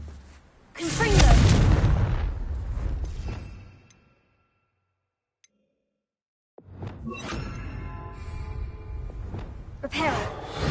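A Confringo blasting spell bursting in Hogwarts Legacy, a loud booming whoosh that fades out, a few seconds of near silence, then rumbling, crackling debris and another swell of blast noise.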